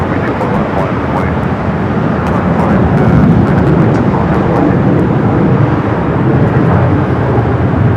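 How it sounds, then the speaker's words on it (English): A Cathay Pacific jet rolls for takeoff on runway 25 right at LAX, bound for Hong Kong, its engines producing a loud, steady broadband roar that builds a little and sustains without pause. "Cathay heading back to Hong Kong. Rolling down 25 right."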